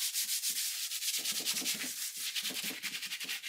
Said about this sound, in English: give the actual hardware a little scuff sanding as well